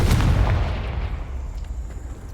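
Confringo blasting spell explosion in Hogwarts Legacy: a heavy, loud low boom at the start that rolls off into a fading rumble, with no talking.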